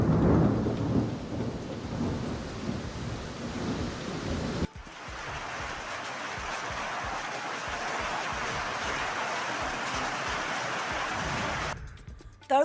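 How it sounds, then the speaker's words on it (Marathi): A hailstorm with strong winds and heavy rain, with rumbling thunder, passes over the Amravati district. A deep rolling roar gives way to a dense, steady hiss of downpour that goes on for several seconds. No one speaks. "अमरावती जिल्ह्यात वादळी वाऱ्यासह जोरदार गारांचा पाऊस पडला"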